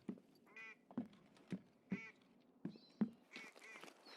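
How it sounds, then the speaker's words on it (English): A duck in the video game Escape from Tarkov quacks in a run of about eight short honking calls, moderately near and distinct against a quiet background, with a slightly busier, noisier stretch at the end. "Hear another duck."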